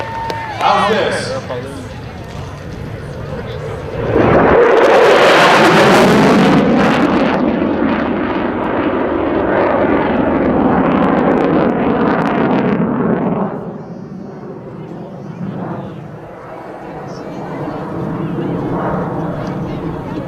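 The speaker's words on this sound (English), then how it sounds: "Ready for some jet noise?" An F-16 Fighting Falcon jet roars past at the California Capital Air Show in Sacramento, its loud broadband blast surging abruptly, peaking and holding for several seconds before fading, with an announcer's voice and crowd noise around it.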